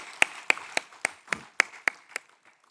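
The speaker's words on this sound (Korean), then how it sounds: "우리 하나님 아버지께 영광의 박수를 올려드립니다." A church congregation at a Wednesday worship service gives rhythmic applause, about ten evenly spaced crisp claps in unison, moderately close and fading out at the end.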